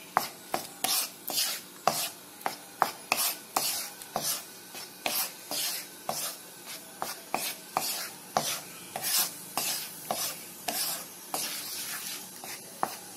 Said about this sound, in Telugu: నెయ్యి చేర్చి ఈ మరి కలపెడతా ఉండండి